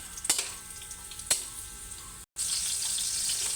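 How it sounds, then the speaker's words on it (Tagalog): Carrots crackle and sizzle in a pan with a couple of sharp pops, then the frying hiss continues more steadily after a brief cut. "Ang carrots naman guys, ang ipiprito natin."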